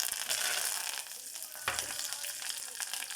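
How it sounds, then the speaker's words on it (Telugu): Tempering of spices for dal, including fenugreek seeds, curry leaves and asafoetida, sizzling and crackling steadily in hot oil, close and fairly soft, with a brief stir-like bump partway through. "తాలింపు వేస్తున్నాను."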